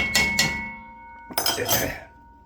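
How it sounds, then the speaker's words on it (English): A slotted spoon stirs a pot of cowboy candy on the stove, making a few close, sharp metal clinks against the pot with quiet gaps between them and no talking. "you're going to need a slotted spoon, but you want to kind of mix that in there a little bit"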